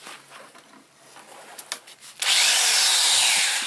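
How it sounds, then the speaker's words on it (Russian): A power drill bores through a metal can in a garage workshop, making a few soft scrapes and taps first, then a sudden loud, steady whining grind that runs to the end. "Вот, накинем его чуток и просверливаем."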